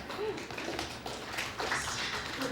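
Scattered, light golf-clap style tapping from a small audience at a book celebration event in a bookstore, soft uneven claps under background chatter.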